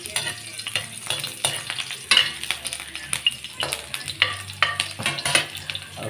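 Onion and garlic fry for chicken adobo, sizzling steadily in a pan with frequent stirring scrapes and clinks of a utensil against the metal, close and continuous.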